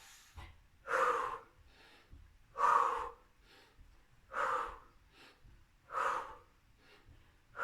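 Heavy rhythmic breathing during a fat-burning fitness workout: four strong, evenly spaced breaths about every one and a half seconds, close and clear with no talk.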